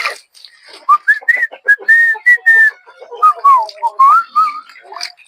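A person whistles a lively, melodic tune while starting work, with clear, close, bright notes in short rising and falling phrases separated by brief pauses, alone and without talk.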